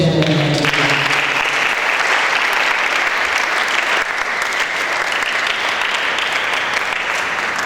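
Loud, sustained applause from an audience at a season opening ceremony, honouring children of Nigeria; dense steady clapping fills the whole stretch after a brief voice at the start.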